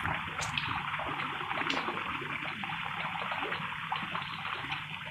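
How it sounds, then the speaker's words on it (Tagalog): Water flows down a mountain stream in the countryside, a constant rushing and splashing that stays steady and close throughout, with no voices over it. "Tubig."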